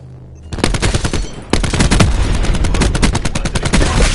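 Video game combat erupts into loud, continuous gunfire and artillery, rapid machine-gun bursts hammering almost without pause after a brief quieter opening, with a heavier blast jolting in partway through.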